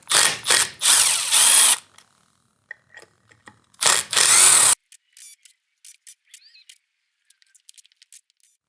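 Seized bolts come out of an old Yamaha TRI-Z 250 ATV with loud bursts of a power tool. Two long runs are separated by pauses, and the clip ends in quieter scattered clicks and clinks of tools and metal parts.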